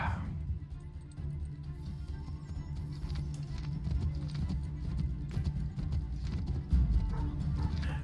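A horse galloping in the Assassin's Creed 3 video game, with a steady rapid clip-clop of hooves running continuously at moderate loudness, close and without talk over it.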